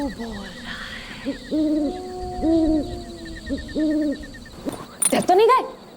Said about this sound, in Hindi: उल्लू बोल रहा है।